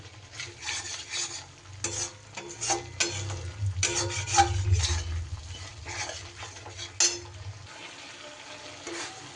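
Spice masala being stirred and fried in a pan, with continuous scraping and stirring strokes over a steady sizzle and a low background hum, fairly close and without talk.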